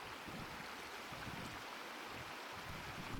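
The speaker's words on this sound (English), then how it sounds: "This is the brook that runs right along beside the house" A brook runs beside a house in rural Ireland, giving a continuous broadband rushing of flowing water that is steady and fairly close, with no talking.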